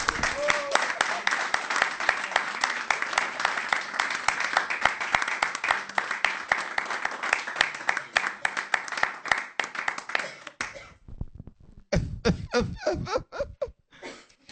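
Congregation in a church clapping steadily to acclaim the word of God, a dense continuous applause for about ten seconds that stops, followed by a few scattered claps and a voice speaking.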